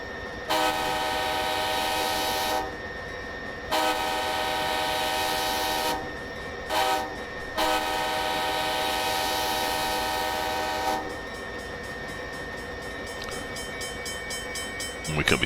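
An NJ Transit train in Train Simulator 2020 doing yard work near Denville, a long droning horn blown in several blasts of varying length over a steady rumble of rolling stock.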